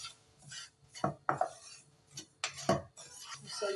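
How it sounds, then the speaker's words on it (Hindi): A spoon stirs semolina roasting in a pan, giving scattered close scrapes and sharp metallic clinks at an uneven pace over a faint background hiss. "चम्मच घुमाते रहेंगे ताकि ये अच्छी तरीके से भून जाए"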